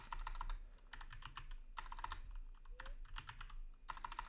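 Someone types on a computer keyboard, working in bursts of quick, close clicking with short pauses between them, over a low steady hum.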